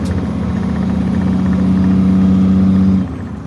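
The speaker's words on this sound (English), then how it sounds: "We'll listen to the truck." A truck engine in a trucking video game drones at a steady mid-pitched hum, loud and constant, then drops off abruptly near the end.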